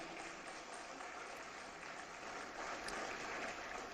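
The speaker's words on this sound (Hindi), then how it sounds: "ज़ोरदार तालियां।" Applause from the audience at a televised Urdu cultural celebration, Jashn-e-Salam 2018, greeting a well-known Indian cricketer: a steady, even roar of many hands, fairly distant and unbroken, swelling slightly toward the end.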